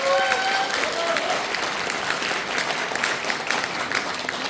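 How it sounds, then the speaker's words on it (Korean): Audience applause at a Democratic Party members' rally in Cheongju's Heungdeok district: dense, steady clapping from an indoor crowd, sustained at even loudness throughout with a few faint voices mixed in. "힘찬 박수 부탁드리겠습니다"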